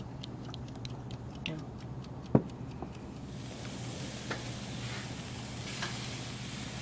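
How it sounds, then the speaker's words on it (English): Shrimp with lime juice and olive oil sizzle on a grill, a soft steady hiss with clicks and one sharp tap as the shrimp are turned, while a voice speaks over it. "Okay, we're turning our shrimp."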